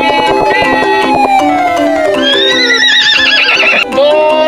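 A man vocally imitates a horse at a race, giving a loud, close run of shrill neighs and whinnies with wavering pitch, backed by a rhythmic clip-clop of galloping hooves.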